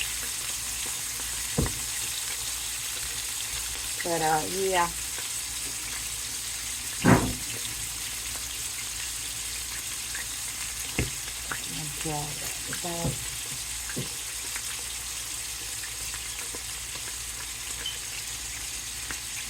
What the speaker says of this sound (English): I put it down into the frying pan.